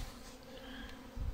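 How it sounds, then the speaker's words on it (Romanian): Honeybees buzz steadily around a hive in early spring, a close, continuous drone without pauses. "Sunt foarte multe albine pe jos, la apă"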